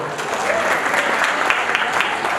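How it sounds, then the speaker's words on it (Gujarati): An audience at a talent fest applauds, a dense, loud wash of many hands clapping steadily for a couple of seconds, close and continuous. "ટેલેન્ટ ફેસ્ટને એકવાર ગડગડાટ તાળીઓથી વધાવો"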